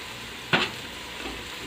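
Spices sautéing in a pan for chicken biryani, a soft steady sizzle with one brief stirring scrape near the start, quiet and close.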